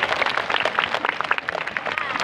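Students at a junior high school clap together in a brief burst of mixed, uneven applause that runs loud throughout, with a voice mixed in.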